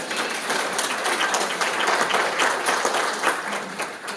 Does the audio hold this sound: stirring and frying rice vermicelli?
no